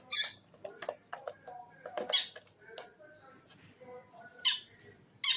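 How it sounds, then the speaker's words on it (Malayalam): Shrill, piercing conure parrot squawks burst out repeatedly in short screeches, with chirpy squeaks in between, fairly near. "കുറേ സൗണ്ടൊക്കെ വരുന്നുണ്ട് കിളിയെ പോലെ"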